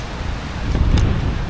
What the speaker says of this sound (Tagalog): Sarap ng hangin, ang lakas.